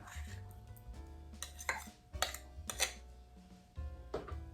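Utensil scraping and clattering in a bowl as vegetable shortening is worked into gluten-free pizza cracker dough, irregular clanks and stirring strokes up close, no voices.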